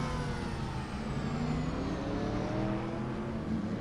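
Porsche 911 GT3 race cars crossing the start-finish line at Aragon, with a steady loud engine roar and a high whine drifting downward as cars pass by.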